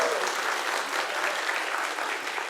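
A conference audience at the opening of a Python community event applauds with dense, steady clapping that fills the whole stretch evenly, crowd noise blended in and no one speaking over it.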